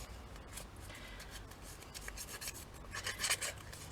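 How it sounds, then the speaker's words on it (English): Scissors scrape along a paper edge in a soft, continuous rasping rub that grows slightly stronger and grittier toward the end. Quiet and close. "I'm just going to run along it with the scissors."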